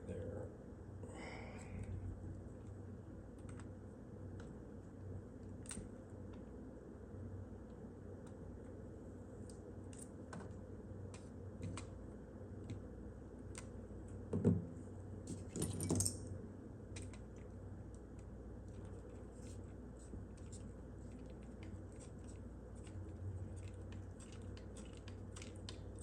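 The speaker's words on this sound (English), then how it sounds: "I'm going to use these little precision like side cutters. I'm just going to cut this little piece out right there." Small precision side cutters snipping a plastic piece out of a Radiomaster MT12 radio transmitter, giving a few sharp clicks and snaps over a quiet room hum, with one louder pair of cuts midway.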